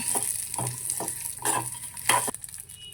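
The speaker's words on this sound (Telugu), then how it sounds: "కరివేపాకు తర్వాత కొంచెం ఎల్లిపాయలు వేసి కలుపుకోవాలి." Curry leaves and onions fry in hot oil with a steady sizzle while a spoon stirs them in the pan, giving a few distinct scraping strokes over the continuous crackle.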